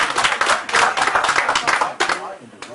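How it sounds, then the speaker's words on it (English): An audience at a live show in Yellowknife applauds, a dense burst of clapping with scattered cheers that swells and then thins out toward the end. "a big round of applause for him"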